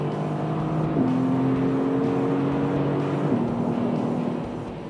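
A Mercedes-AMG GT S with a twin-turbo V8 pulls hard and close, the engine note climbing steadily with two crisp gear shifts before easing off at the end.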